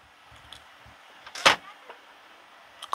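A Nanova D1 countertop dishwasher door is swung shut, making one sharp, firm closing thud after a few soft handling noises, followed by another quick click at the end.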